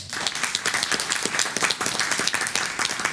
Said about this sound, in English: give a round of applause to the coaches for both our wonderful teams